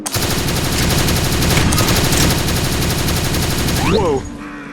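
Rapid continuous gunfire in the video game Doom: The Golden Souls 3, loud and dense automatic shots for about four seconds before cutting off, with a brief voice near the end.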